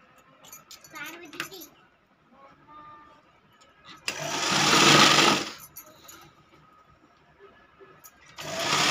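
A sewing machine stitches a border strip onto the reverse side of a large quilt made from old cloth, running in a loud burst of about a second and starting again at the end, with talk in the quieter gaps.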